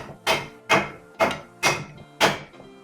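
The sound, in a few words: mincing water chestnuts with knife on board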